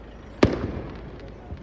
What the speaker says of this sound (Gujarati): ફટાકડા ફૂટ્યા